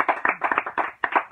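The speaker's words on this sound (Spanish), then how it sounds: "un aplauso para este gran amigo del circo mundial" Brief bursts of clapping for a circus producer friend on a television show, a few hands close and fairly loud in uneven clusters, mixed with a slightly muffled, band-limited quality.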